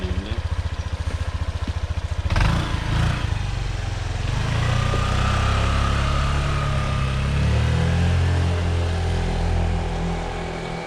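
A Honda PCX scooter whose engine was affected by water on the road runs close by, a rapid pulsing idle for a couple of seconds before it revs up into a loud, steady roar that holds with slight swells.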